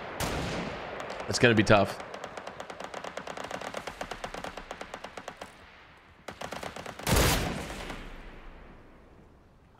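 Rapid bursts of gunfire in the Fortnite video game, with rhythmic shots trailing off, a pause, then another loud burst, while a player talks briefly.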